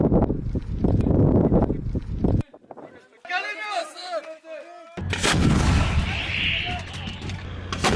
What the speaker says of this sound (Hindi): इजरायली सेना ने सेल्फ प्रोपेल्ड गन से गोले दागे हैं।